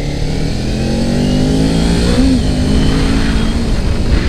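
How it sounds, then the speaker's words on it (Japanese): A 2018 Kawasaki Ninja 250 motorcycle accelerating, its close, loud engine note climbing steadily in pitch through the gears with a brief shift blip midway. "中型のバイクでも乗ってるのかなぐらいな感じでファーって加速していくから"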